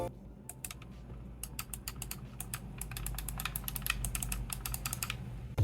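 Rapid, sharp clicking of mechanical switch buttons on an Xbox/PC game controller, pressed in quick irregular bursts, close up, like typing on a keyboard, with no talking.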